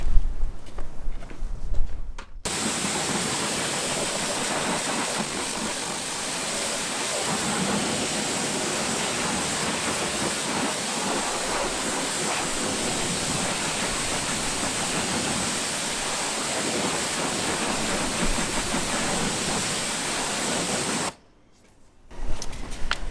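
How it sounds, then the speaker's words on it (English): A pressure washer rinsing a car, a steady broad hiss of spraying water that starts abruptly, holds even and loud for most of the stretch, then drops out briefly near the end. "So let's get the pressure washer, we'll rinse all that off"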